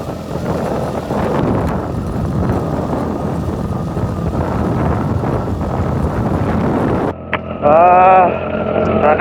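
Sea wind buffets the microphone during a ride on a Yamaha YTX125 scrambler motorcycle crossing San Juanico Bridge, a loud continuous rush with engine drone, ending abruptly in a brief tonal whine.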